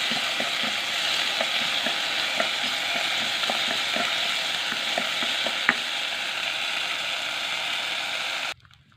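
Stir-frying in a hot pot, a Lao-style dish with seasonings added: a steady, loud sizzling hiss with scattered clicks of stirring and scraping, close up, with no talk, cutting off abruptly near the end.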